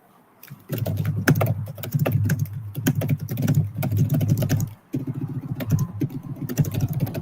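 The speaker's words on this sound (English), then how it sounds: "At least Stebbins still has a loud keyboard, which is good. Sound like you're punching that thing" Loud computer keyboard being typed on, with fast, hard, clattering keystrokes in a steady burst and a brief pause before the typing resumes, heard close and on its own.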